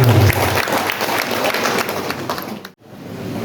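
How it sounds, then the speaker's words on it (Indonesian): An audience at a teachers' association installation ceremony applauds, a loud sustained wash of clapping that briefly drops out near the end before resuming. "berikan tepuk tangan"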